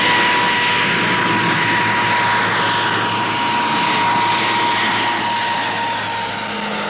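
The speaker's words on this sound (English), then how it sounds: "Another of 1959's newcomers is the Argosy Freighter Coach, a new design from Armstrong Whitworth for the rapidly expanding air freight market." An Armstrong Whitworth Argosy freighter from 1959 with Dart turboprops flies past. Its engines give a steady, loud droning whine with a sustained tone that fades slightly toward the end.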